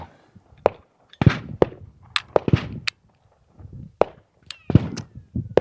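Sharp gunshots from a Beretta 3032 Tomcat .32 pocket pistol fired at targets outdoors, about eight loud cracks at irregular intervals across several seconds with short gaps between shots.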